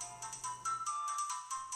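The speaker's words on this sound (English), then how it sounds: "Get the phone!" Phone ringtone plays a short, bright electronic melody of repeating tones, close and fairly quiet, with no voices.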